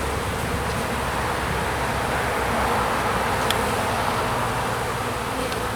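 A dense, steady hum of honey bees fills the air around an open hive as frames are inspected, a constant buzzing swarm close by with no pauses and no talking.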